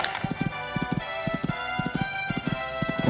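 Horse hooves pound in a quick, steady galloping rhythm, close and clear, at a horse trials jumping event, with repeated thudding beats and little else around them.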